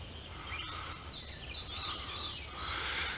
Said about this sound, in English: another bird call calling, a downward flute-like spiraling sound